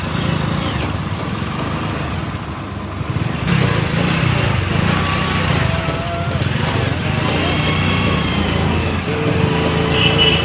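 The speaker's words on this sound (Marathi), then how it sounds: "ट्रॅफिक जाम हळे जाता हळे जाता." A motor vehicle crawls slowly through a traffic jam near Mangaon market on a rainy day, its engine droning steadily throughout, with other traffic noise around it.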